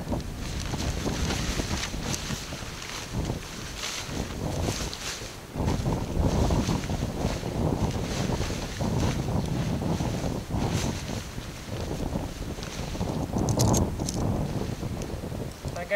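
Wind gusts buffet the microphone on a rocky outdoor pitch where a Hilleberg Akto tent is being set up, a loud continuous roar that swells and eases, with faint talk in places.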